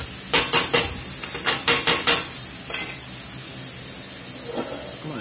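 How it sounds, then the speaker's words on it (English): Onions and celery sizzling in a pan, with a steady loud hiss and a few sharp scrapes of stirring near the start. "We're just going to sweat these onions down and let the celery soften up a little bit."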